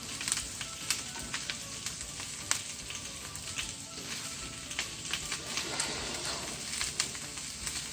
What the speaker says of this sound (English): We're going to keep stirring this so it doesn't burn along the bottom.